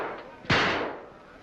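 A single sharp pistol or rifle gunshot at a shooting gallery cracks out loudly mid-clip and rings off over low background murmur.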